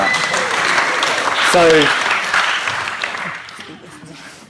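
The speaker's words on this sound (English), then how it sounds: "Everyone throw stuff and clap." Teachers at a professional development talk break into sustained, dense applause that fills the room and slowly tapers off, with a brief voice heard over it.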